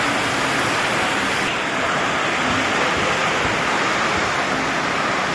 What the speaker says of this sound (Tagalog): Lakas po ng ulan mga kalingap, grabe.